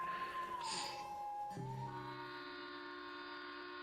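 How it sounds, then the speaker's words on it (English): A distant train sound effect rises with a sustained whistle-like tone that dips and then holds alongside a low steady rumble, faint and building. "the sounds of a train in the distance starts to pick up and get louder and louder and louder"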